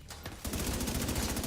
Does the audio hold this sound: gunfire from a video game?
yes